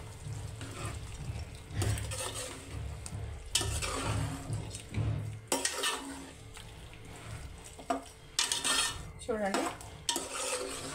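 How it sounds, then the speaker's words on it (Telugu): Ginger garlic paste fries in a pan for chicken curry, a steady soft sizzle under repeated scraping and stirring with clinks of a spoon against the pot, close by, with a brief word spoken. "అల్లం వెల్లుల్లి పేస్ట్ పచ్చి వాసన పోయే వరకు వేయించుకుందామండి"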